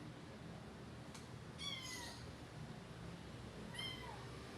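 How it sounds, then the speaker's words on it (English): A pet kitten meows twice, thin rising-and-falling cries a couple of seconds apart, close but soft against a quiet room hum. "Sorry, it's just my pet. It's just my kitten."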